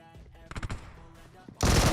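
Rapid automatic gunfire from PUBG Mobile, upgradeable weapon in play, sounds in bursts, with a sustained loud volley closing the clip over brief game noise.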